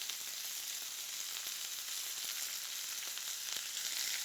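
Shallots fry in a hot pan, giving a steady bright sizzle with small crackles and pops, close and continuous, no talking.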